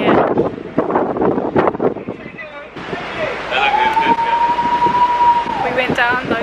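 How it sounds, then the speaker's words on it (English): Wind gusts across the open top deck of a cruise ship in the Pacific Islands, a continuous rushing noise under nearby voices, with a long steady whistle-like tone partway through. "It's a bit windy out here."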